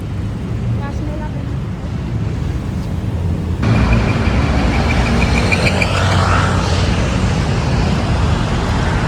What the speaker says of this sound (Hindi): इतनी स्पीड से गाड़ियाँ आ रही है